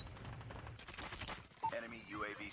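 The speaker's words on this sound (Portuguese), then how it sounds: "Olha isso, não acerta um tiro." Shotgun gunfire in the mobile shooter Call of Duty Mobile, heard as a dense run of rapid blasts and bursts with game effects, with a voice talking over the action partway through.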